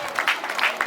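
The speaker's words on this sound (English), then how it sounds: "Please a round of applause for this wonderful boy." Audience clapping for a young boy at a school anniversary and graduation ceremony, a brief burst of dense applause with a crowd murmur beneath.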